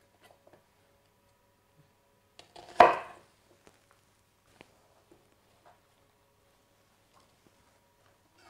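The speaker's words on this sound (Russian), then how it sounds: "Теперь его режем сантиметр полтора-два толщиной поперек." A knife cuts crosswise through an onion in one crisp, close chop on a cutting board, followed by a few faint taps in a quiet kitchen.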